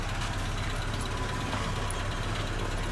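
A freshly rebuilt Peugeot 505 GL engine runs at a steady idle, a constant low rumble with no talk over it.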